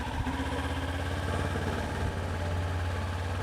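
A motorcycle idles in a parking lot: a steady, close engine rumble with even low pulsing throughout, no voices.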